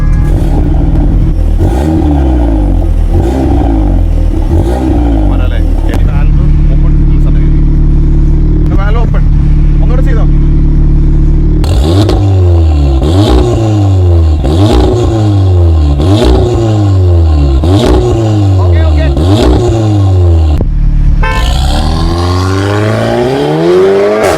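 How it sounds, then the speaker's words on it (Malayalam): Audi S3 with a new exhaust revving repeatedly with the exhaust valve closed, loud close engine blips rising and falling in a steady rhythm, with a deeper idle drone between them. "ആദ്യമേ ഞാൻ വാൽവ് ക്ലോസ് ആയിട്ടുള്ള ശബ്ദം കേൾപ്പിക്കാം"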